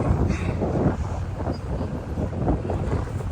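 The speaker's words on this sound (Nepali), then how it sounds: "यो मेलबर्न सिटीमा चाहिँ जहिले हावाहुरी जहिले हावा" Strong gusts of wind in Melbourne city buffet the microphone, producing heavy low rumbling roar that swells and eases throughout.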